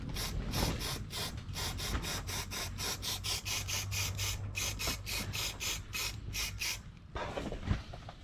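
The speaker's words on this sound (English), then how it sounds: "I'll just give this a spray." A series of short hissing aerosol spray bursts in quick succession onto the inner sill of a Vauxhall Corsa B Combo van, fairly close, with a brief pause before a final couple of sprays.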